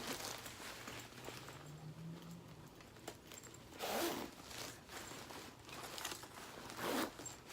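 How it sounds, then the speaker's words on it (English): A jacket zipper being pulled up during a clothing try-on, heard as two quick, close rasping zips separated by a pause, over quiet rustling of fabric. "Let me zip it up."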